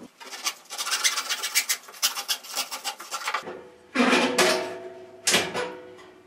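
Material is scraped off a fishing rod in rapid rasping strokes, close and fairly loud. After a short pause come two more bursts of scraping.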